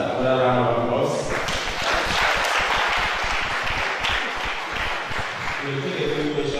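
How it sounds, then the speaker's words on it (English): An audience at a diocesan education workshop in Ikot Ekpe applauds a nun, the broad clapping running steadily for several seconds with voices mixed in at the start and end. "let us give Sister another round of applause"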